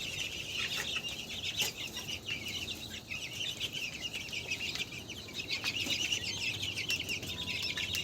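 Chickens on a Bengali poultry farm where chicks had suddenly died, clucking steadily at moderate distance over a constant background hiss, with no talk.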